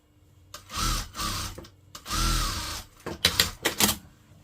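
Sewing machine stitching a churidar pajama seam, two longer whirring runs followed by short quick bursts of stitching, close and with no voices.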